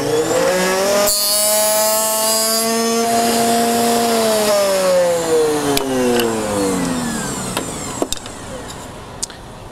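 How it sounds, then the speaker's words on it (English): A router fitted with a box joint router bit cutting a clamped wood workpiece, its motor whining loudly and pitching down as it bites in, followed by lighter clicks and ticks as it winds down. "I can go ahead and start my router and make my cut"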